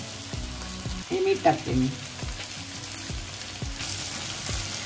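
Tomato egg masala fries hard on a hot tava, a loud constant sizzle broken by regular scraping stirs, while someone speaks briefly over it.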